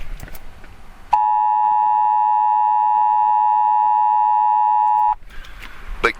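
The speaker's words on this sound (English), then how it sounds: "unpleasant sine wave may be the only way that you can save your own life during a national emergency" A loud, steady Emergency Alert System attention tone holds unbroken for about four seconds, starting and stopping abruptly, with quieter background noise before and after.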